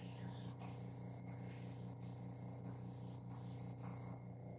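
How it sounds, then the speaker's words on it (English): Aerosol spray coating a car being prepared for a car show, a steady close hiss in short bursts with brief gaps between presses, no talking. "All I'm doing here is just kind of spraying a little bit, not too heavy."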